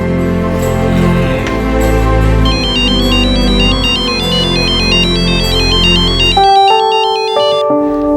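A phone ringtone plays loudly, a bright repeating electronic melody over a layered synth tune that shifts near the end, with no speech.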